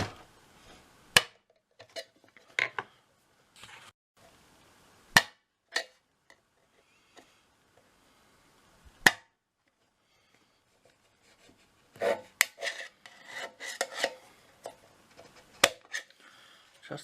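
Sharp, sparse taps and clicks of a hand tool punching holes in an old tin can to make a lantern, irregular single hits with quiet gaps and a busier scraping stretch near the end, close up.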